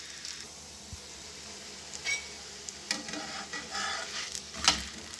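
Besan chilla cooking in desi ghee on a pan gives a soft, close sizzle with light scraping and stirring touches, quiet overall with a few brief louder scrapes, no talking.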